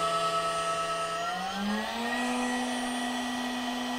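A CNC spindle whines at speed, its steady high pitch rising smoothly midway toward nearly 15,000 RPM and then holding constant, close and even with no talk.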